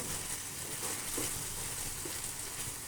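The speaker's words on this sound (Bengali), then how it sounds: "আর একটু ভাজা ভাজা হচ্ছে তো আমার মাংসটা" Dry beef bhuna (shredded dried meat) frying in a pan, a steady hissing sizzle with faint stirring scrapes and soft pops throughout, close and even.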